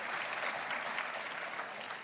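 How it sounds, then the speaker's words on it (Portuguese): Church congregation applauding at an evening service, a dense, steady clatter of many hands clapping together without a break, fairly loud throughout. "aplauda o Senhor nesta noite"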